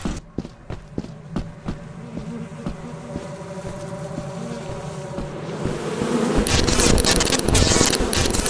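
Bees buzz in the video game Lethal Company, a rising dense drone that swells louder near the end, over scattered footstep-like taps and running movement.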